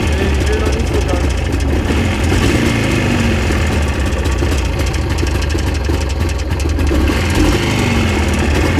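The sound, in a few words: motorcycle with sidecar engine idling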